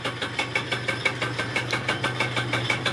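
A Yamaha Neo's 50 two-stroke scooter engine idles inside a garage with a steady, rapid, buzzy pulsing rhythm, heard up close and without talk.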